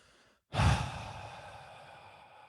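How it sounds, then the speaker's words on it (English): A deep breath let out during a guided breathing exercise, one long, close, audible sigh-like exhale that starts abruptly and fades gradually, with no talking over it. "I want you to breathe in deeply on a count of 4. 1, 2, 3, 4. And exhale."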